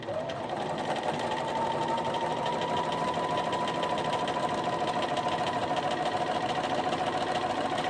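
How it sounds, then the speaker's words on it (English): A Bernina Aurora 430 sewing machine sews a straight stitch, its rapid needle clatter forming an even mechanical buzz that continues without pause, close and moderately loud. "I'm going to stitch a regular straight stitch so you can hear the beauty of this machine"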